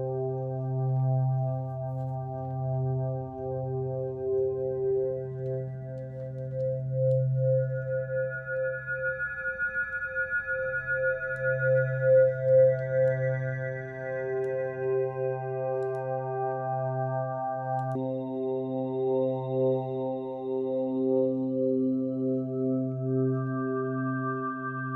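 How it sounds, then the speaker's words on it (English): Digital wavetable synth waveforms in VCV Rack play as sustained tones that keep shifting in timbre and pitch, with wobbling harmonics and an effected, slightly metallic character, moderately loud and with no talking over them. "these are digital waveforms that sound a bit like this"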